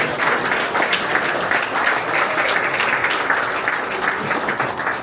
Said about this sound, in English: So how about a round of applause for all of our elected officials?